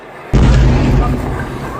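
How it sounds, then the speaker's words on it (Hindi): One sudden, loud explosion from news footage of Gaza hits hard and then rolls into a long, rumbling decay, with no other sound before it. "एक के बाद एक धमाके वहां पर हुए।"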